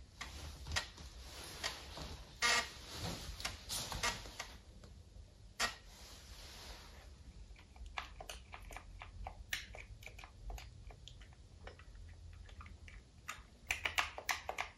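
Keys being pressed one by one on an Amiga 600 keyboard, some of them faulty, as it is tested with an Amiga DOS floppy: scattered sharp plastic clicks in irregular bursts, some quiet gaps, close and with no talking.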